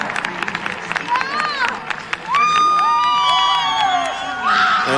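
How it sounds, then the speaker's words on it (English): An arena crowd at the men's short program figure skating at the 2002 Salt Lake City Winter Olympics breaks into loud sustained cheering with shrill whistles and whoops, swelling midway and staying roaring close up. "And then cheering"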